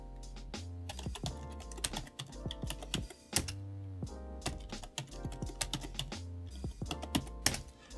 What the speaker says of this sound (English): just type PASSWD and then select a new password